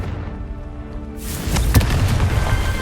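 Confringo fire spell exploding in the Hogwarts Legacy video game, a fairly quiet tonal stretch that gives way to a sudden booming burst with crackling, rumbling tail, close and loud.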